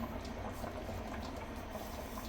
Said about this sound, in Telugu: చక్కగా పులుసు అనేది మరుగు పట్టింది